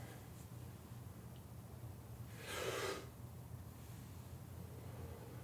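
A man imitates forceful martial arts breathing, producing a single sharp, breathy exhalation about a second long, loud and close against a faint hiss.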